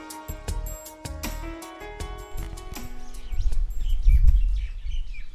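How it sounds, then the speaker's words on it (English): Birds tweeting at a beach resort on the Indian Ocean in Al Aqah, UAE, bright chirps and whistled calls over a low rumbling background that swells toward the end. "While the birds are tweeting"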